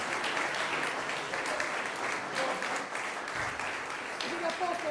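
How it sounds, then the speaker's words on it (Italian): Applause from an audience at a performance by the cavalry brigade band Fanfara della Brigata di Cavalleria Pozzuolo del Friuli: steady dense clapping for about five seconds, fairly close, with some voices mixed in. "Facciamogli un applauso"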